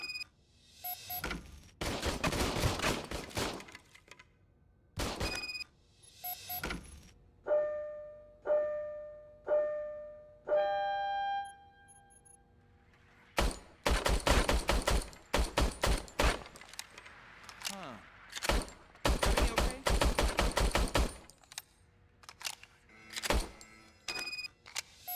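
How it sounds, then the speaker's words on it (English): Bursts of rapid gunfire from an old police service pistol in the Robocop Rogue City video game, in clustered volleys separated by short mechanical tonal chimes and pauses, sharp and close. "I was issued this old gun and serviced it according to the manual. I will try it out."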